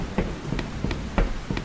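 Rain in the horror game Aquacreep 3D: a steady hiss of falling water with a few louder drips and splats landing at irregular intervals.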